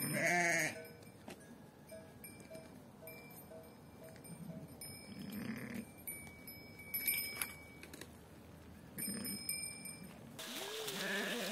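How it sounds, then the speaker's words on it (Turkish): Sheep of two breeds, one of them the Trabzon round-tailed sheep, bleat in a farm setting, with a loud close call at the start and more scattered bleats and faint jingling through the rest. "Burada iki cins koyun var."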